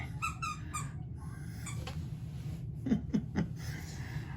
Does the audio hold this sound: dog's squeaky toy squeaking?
yes